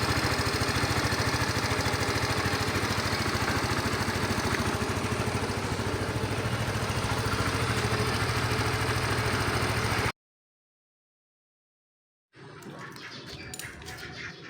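A Yamaha Mio i 125 scooter engine, all stock with a 57mm setup, runs steadily at close range for about ten seconds, then cuts to silence before a brief noisier stretch.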